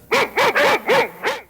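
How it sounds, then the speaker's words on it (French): A dog barks five times in a quick, evenly spaced series, each bark loud, close and clear with no talking around it. "C'est un chien."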